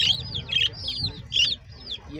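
A chicken at an agriculture show clucks and chirps in several quick, close bursts over a low murmur of crowd noise.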